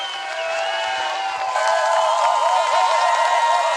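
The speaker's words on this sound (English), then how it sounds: "Cheers from the crowd as the local Justyna Kowalczyk comes down to the stadium for the penultimate time." A stadium crowd cheers for local skier Justyna Kowalczyk as she comes into the stadium during a women's mass start cross-country race in Szklarska Poręba, Poland. A steady wash of crowd noise swells slightly and holds, with distant voices and whistles in it.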